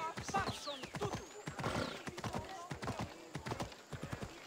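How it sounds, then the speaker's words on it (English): Horse hooves in Assassin's Creed Odyssey strike in a steady clip-clop rhythm, close and fairly loud, with a voice talking over parts of it. "Let's get our horsey."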